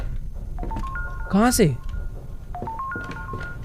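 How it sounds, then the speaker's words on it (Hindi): A phone rings with a warbling electronic tone in a dark haunted-house horror video game, sounding in short repeated tonal bursts, while someone speaks over it. "कहीं पर कोई फोन बजने का साउंड आ रहा है।"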